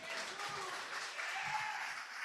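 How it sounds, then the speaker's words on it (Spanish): A church congregation applauds, a short and fairly faint burst of mixed clapping that blends into the room's murmur and fades toward the end. "Dale un aplauso a Cristo."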